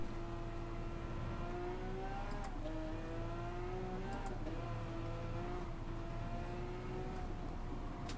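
A Lamborghini Aventador racing around Road Atlanta in a video game, its engine a continuous high whine that climbs and dips with throttle and gear changes, steady and unbroken with no talk.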